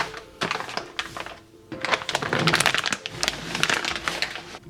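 Plastic packaging of a Russian IRP-W winter ration crinkles and crackles as it is torn and pulled open by hand, in close, uneven bursts with short pauses, and no talking.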